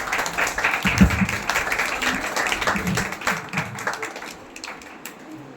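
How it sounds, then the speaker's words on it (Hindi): Applause at a religious ceremony honouring Saudharma Indra and Shachi Indrani, a crowd clapping steadily at mid distance and slowly thinning toward the end. "तालियों से उत्साहित कीजिए हमारे इंद्रों का।"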